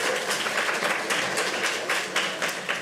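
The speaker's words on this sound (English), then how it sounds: "We'll give them one more round of applause." Steady audience applause for a panel, a continuous patter of many hands clapping at moderate volume throughout.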